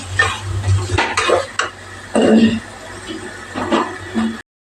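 Onion dropped into a hot pan and stirred, with clattering spoon-on-pan strokes and scrapes over a light sizzle, loud and close in uneven bursts.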